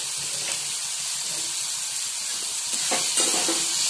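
Paneer frying with salt in a pan gives a steady soft sizzle and hiss, close by, with a few brief scraping stirs and spatters over the few seconds.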